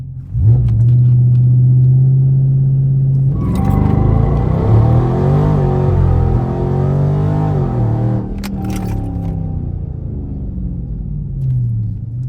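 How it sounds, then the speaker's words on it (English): A Dodge Charger Scat Pack on street tires doing a launch-control start: a loud steady idle rumble, then a surging roar as the engine revs and the car accelerates hard, easing off toward the end, with no talk. "I'm gonna activate this launch."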